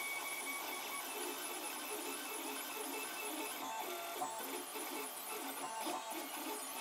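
A 3D printer printing pins for a quick release belt drive, giving a continuous faint whirring of stepper motors with busy, shifting tones and no voices.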